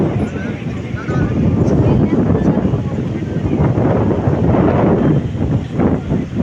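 Strong wind rushing past a moving train roars and buffets the microphone in a continuous rumbling gust, with a faint voice buried underneath.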